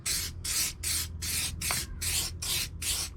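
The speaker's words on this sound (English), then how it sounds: "So basically, we're just going to spray it." Tyre shine sprayed onto a car tyre in eight quick, evenly spaced hissing bursts with short gaps between them, close and fairly loud, with no voices.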